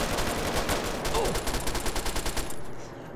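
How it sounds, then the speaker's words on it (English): Rapid automatic submachine gun fire from the Fallout 3 video game, a dense run of evenly spaced shots close up that stops abruptly near the end. "It's a submachine gun,"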